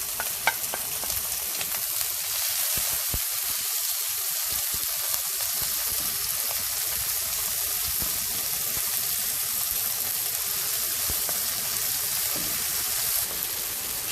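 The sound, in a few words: onion frying in two tablespoons of oil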